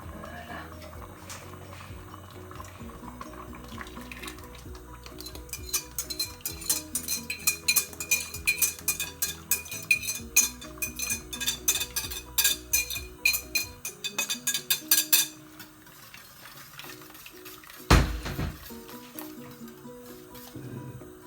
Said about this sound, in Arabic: كنبدا نخلط